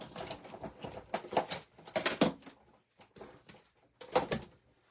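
Hand-cranked embossing machine feeding a card through a distressed-tin embossing folder, giving intermittent creaking, clicking and grinding bursts, fairly close and moderately quiet.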